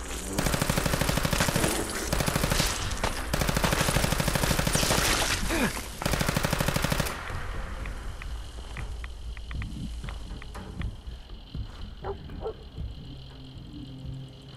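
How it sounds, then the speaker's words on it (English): Sustained machine gun fire in Fallout 4, loud dense bursts for about seven seconds, then scattered quieter shots and clatter trailing off. "Never-ending bullets."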